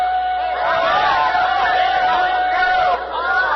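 A crowd cheers and shouts in greeting as the Tom Thumb steam locomotive arrives in 1830, a loud, continuous mass of excited voices with a sustained whistle-like tone running through it.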